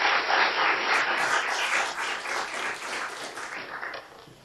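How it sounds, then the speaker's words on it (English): An audience applauds a presenter with dense, sustained clapping that fades toward the end, with no voices over it. "I'm always surprised when people clap before they listen to a presenter."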